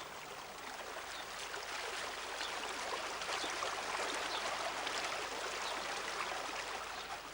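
Running water from a qanat stream surfacing beside a wall in Persia, a steady rushing and trickling wash, constant and moderately loud with no talk.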